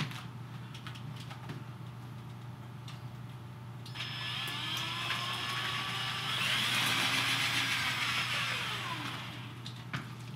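A spin art machine spinning a painted piece, with a steady motor hum that rises as it speeds up and a whirring, whooshing swell of spinning, close and continuous with no voices.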